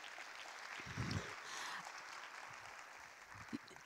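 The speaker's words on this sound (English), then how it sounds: "Let's give him a round of applause, please." Faint, distant applause from a conference audience as a minister comes onto the stage, a thin wash of clapping with a few louder bumps.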